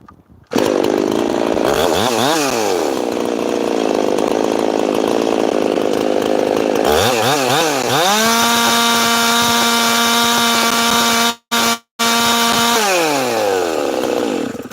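A ported Husqvarna 372 chainsaw engine screams at high revs, about 14,000 RPM, dropping and climbing again in several sustained bursts with brief cutoffs, very loud and close.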